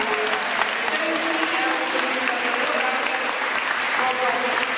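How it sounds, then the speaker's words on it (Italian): Steady, full applause from a crowd honoring volunteers at a community friendship lunch, a dense, even wash of clapping that holds for several seconds. "direi di dare un applauso a tutti i volontari"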